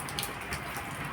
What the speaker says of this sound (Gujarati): આપણે બેઠો બેઠો વરસાદને નિહાળીએ છીએ